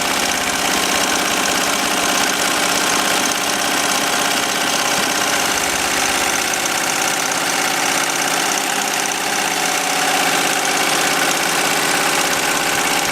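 An embroidery machine stitching a leather straight razor case runs at speed, about 1,000 stitches per minute, giving a steady, dense mechanical whir with rapid rhythmic clatter throughout, close and loud with no talking.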